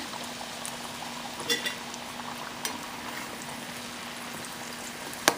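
Moong dal kachoris deep-frying in hot oil give a steady, close bubbling hiss that runs the whole time, with a few faint clicks and a sharper knock near the end.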